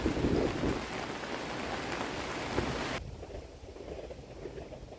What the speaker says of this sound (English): You can see how blustery it is, and it's been raining all day.